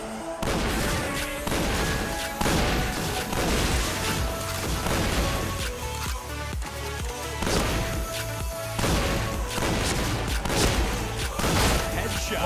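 Video game gunfire rattles in dense, repeated bursts with booms and impacts, loud and continuous, while players talk excitedly over it.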